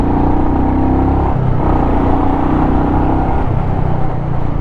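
Royal Enfield Meteor 350 motorcycle engine and exhaust revving steadily, a loud, continuous rumble close by with the pitch shifting slightly through the revs and no talking.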